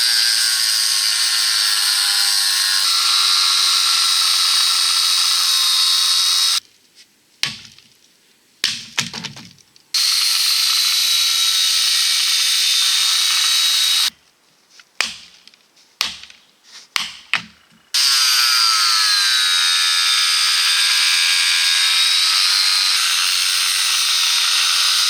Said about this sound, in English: I wish I would have bought that grinder way earlier. This is making it way easier,